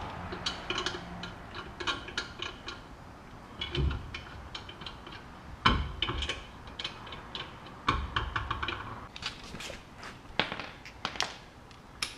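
A ratchet clicks in quick runs while lug nuts are tightened on a 2000 Ford Ranger wheel, with clinks and thumps between bursts, close and fairly steady, with no talking.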